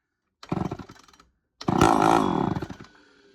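A Poulan 245A chainsaw with the choke pulled out fires in a short loud burst, cuts off, then roars again for about a second and a half of steady, rough running before dying away, close by with no talk.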